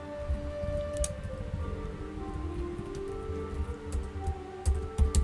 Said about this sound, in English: It's snowing, it's raining and snowing.